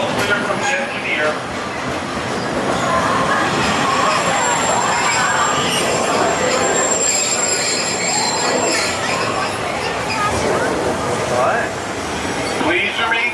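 Walt Disney World Railroad train at the Magic Kingdom slowing into a station, with loud continuous wheel squeal and rumbling rail noise close by, and a voice talking over it.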